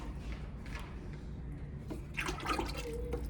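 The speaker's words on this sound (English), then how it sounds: "I'm gonna take a measuring cup. I'm gonna pour it in the inside." Ceramic glaze poured from a measuring cup into the inside of a mug, a soft liquid splash and trickle that swells toward the end over faint room noise.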